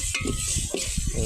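Pilau rice being stirred as it fries in a pan, soft scraping and sizzle with a few spoon knocks, steady and close, no voices.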